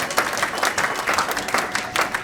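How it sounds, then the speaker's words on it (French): A church congregation applauds. The clapping is dense and steady, with a crowd murmur mixed in, across a short burst. "Acclamons bien le Dieu tout-puissant"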